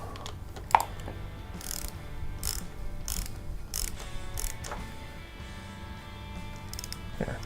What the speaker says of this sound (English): Then I'll put on the washer, I'll put on the nut, I will tighten that one up.